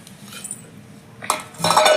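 A metal bowl is turned on a plate to spread warm sesame chikki, first a soft faint rubbing and then a burst of close scraping clinks and clatter.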